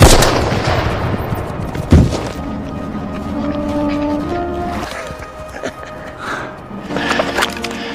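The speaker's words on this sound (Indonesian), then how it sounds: "Hubler berhasil membidiknya hingga perwira Nazi itu pun tewas" Gunfire in a WWII battle scene in the forest near Bastogne between American and Nazi forces: a single sharp, loud gunshot stands out about two seconds in, set against a dense, rumbling battle din with fainter shots later.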